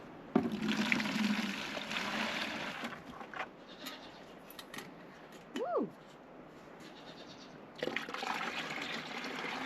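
Water sloshing and pouring as a container is emptied into a tank at an off-grid Alaska homestead, a steady broadband wash that runs for several seconds, pauses briefly, then resumes, with a brief sliding squeak partway through.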